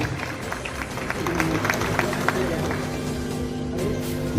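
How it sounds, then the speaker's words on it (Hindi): A crowd applauds at a community gathering of a Vasai Virar Hindu-Muslim unity social organisation, with steady clapping running throughout under a voice. "तो एक तालियां अपने के लिए बनती हैं। जोरदार तालियां।"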